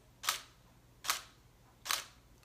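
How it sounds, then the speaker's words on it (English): Three crisp DSLR camera shutter clicks on a slow exposure, evenly spaced about a second apart, close and distinct over a faint background hum. "You hear that shutter slow down quite a bit."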